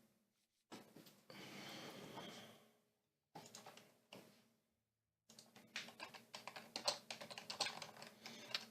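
Bursts of typing on a computer keyboard, quiet close key clicks in several separate runs with short silent gaps, the last run busier and more uneven.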